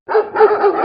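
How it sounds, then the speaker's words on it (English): A Ring Video Doorbell 3 chime tone of a dog barking repeatedly in quick succession, close and fairly loud, with no voices or other sounds around it. "Dogs barking."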